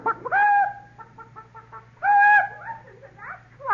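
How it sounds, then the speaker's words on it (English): A chicken makes loud, close clucking calls in two bursts, with tonal squawks and a quick stuttering run of clucks between, set against a low steady hum. "Cluck."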